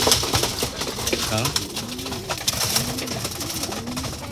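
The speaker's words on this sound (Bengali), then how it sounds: "কবুতর খাবে, এই যে এখন খাচ্ছে" Pigeons coo in soft rolling calls while feeding nearby, several overlapping birds heard close over a busy outdoor background, with some people talking.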